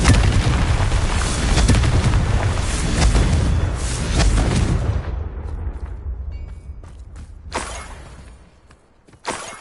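Confringo spell blast in Hogwarts Legacy, a loud booming explosion with crackling debris for about five seconds, then fading into quieter rumbles and a few sharp impacts.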